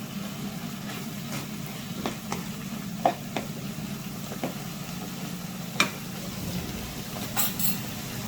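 Chicken fried rice made with brown rice, bean sprouts and no vegetable oil is stir-fried in a pan. A steady sizzle runs throughout, broken by occasional scraping knocks of the spatula, with no talking.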